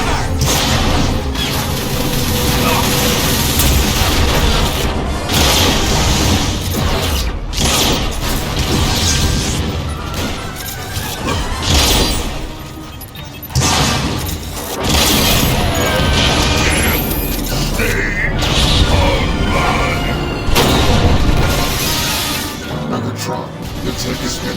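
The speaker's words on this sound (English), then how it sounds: "Grenade! Take cover!" A grenade goes off in Transformers: War for Cybertron amid loud, dense battle noise, with booms, crashes and whooshes stacked together, while voices talk over the chaos.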